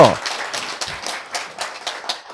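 A lecture audience claps in a brief irregular burst of sharp hand claps, fairly close, with a voice heard at the start.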